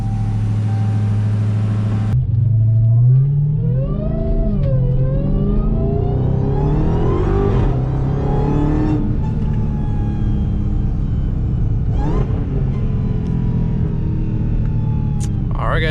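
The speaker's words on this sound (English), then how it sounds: "let's go ahead and start up the car first. Let her warm up, let her rip for a sec." A Dodge Charger/Challenger R/T V8 cranks and starts with a sharp bark, then settles into a rumbling idle broken by several rising and falling revs, loud and close throughout.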